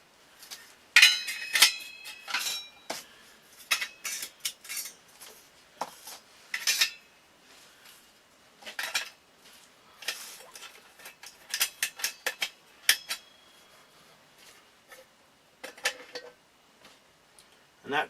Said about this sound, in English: Or I've got in here this is a wood gas stove.